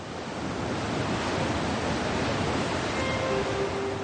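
Ocean swell and waves roll in off an exposed, unsheltered stretch of Scottish coast, a loud, continuous wash of surf with wind noise and no voices.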